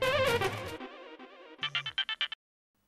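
Electronic phone ringtone for an incoming call: a melodic tone sequence followed by a run of short repeated beeps, loud and close, with no talk.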